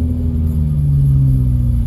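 A car driving on a road as a storm rolls in from rain to snow flurries, a steady loud engine rumble and road noise heard alone from inside, with no talk.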